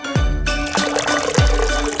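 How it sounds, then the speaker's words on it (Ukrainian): Water poured into a glass filled halfway with grapes and topped with ice, a steady close trickle and splash with ice clinking, lasting about two seconds. "Потім заливаємо водою."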